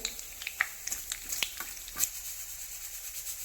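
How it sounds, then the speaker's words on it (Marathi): Thin slices of coconut fry gently in ghee, giving a soft, fairly quiet sizzle broken by a few sharp crackles and pops. The crackling thins out over the last second. "थोडं तूप पहिलं खोबरं जे म्हणजे बारीक काप करून घेतले आहेत खोबऱ्याचे छान असे तेलामध्ये तळून घ्यायचे आहे"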